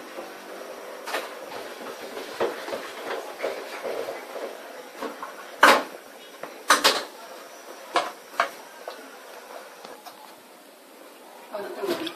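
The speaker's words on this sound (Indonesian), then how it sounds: "Terus aduk-aduk agar tidak gosong di bawahnya." A spoon scrapes and knocks against a pot while a thickening banana dessert mixture is stirred for Makassar es pisang palu butung, giving irregular clacks and scraping with a few louder knocks, and a voice talks at times.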